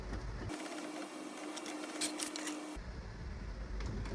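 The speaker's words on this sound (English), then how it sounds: "Now the third photo is in printing process." A small photo printer runs a print, a steady mechanical whir with faint tonal hum and bursts of rapid clicking and rattling for a couple of seconds, then stops into quiet room noise.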